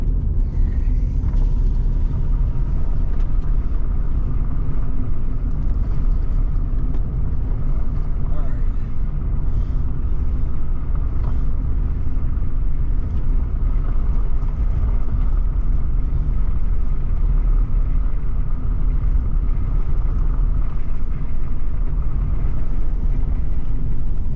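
A car rolls along a back road near mountain streams, its steady low engine and tire rumble filling the whole stretch, close and continuous, with a voice talking briefly over it.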